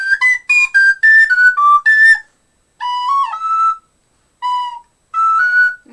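A person whistles a lively tune up close and loud in short melodic phrases broken by brief pauses, a clear pure tone hopping between notes.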